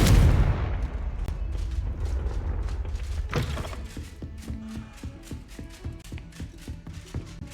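Confringo blasting spell cast in Hogwarts Legacy: a heavy explosive boom that opens loud and close, then decays into a clattering, mechanical rumble with scattered sharp ticks and debris-like clicks.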